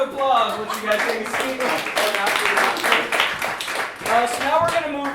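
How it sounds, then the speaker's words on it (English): An audience at an improv comedy show breaks into a round of applause, bursts of clapping mixed with voices and cheers throughout. "Another round of applause."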